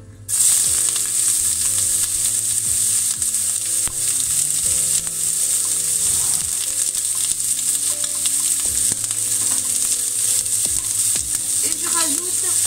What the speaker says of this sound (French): dans ma poêle chaude, je verse un peu d'huile d'olive et je viens tout de suite mettre mes oignons